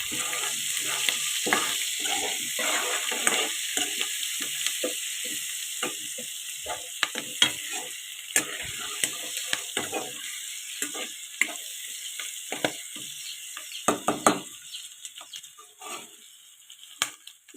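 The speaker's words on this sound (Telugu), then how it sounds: "వీటిని మంచి కలర్ వచ్చేలాగా ఫ్రై చేసేసుకొని" Vegetables fry in a pan with a bright, continuous hiss and sizzle, crackling pops scattered throughout, close and steady.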